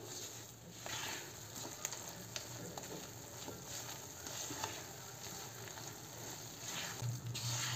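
Wheat flour roasts in ghee for laddu, a faint, steady sizzle with soft scraping stirs running throughout.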